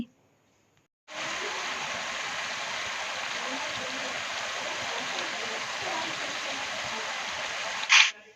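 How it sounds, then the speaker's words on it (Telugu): Water pours steadily into a pressure cooker for a mutton and cucumber curry, a continuous close rushing splash of about seven seconds that stops abruptly, ending with a brief clink. "ఇక్కడైతే వాటర్ అయితే యాడ్ చేస్తున్నాను"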